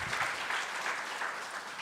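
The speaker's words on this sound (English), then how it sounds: "I want you guys to clap for the minister." A crowd applauds steadily, a dense patter of clapping hands that holds at an even level throughout.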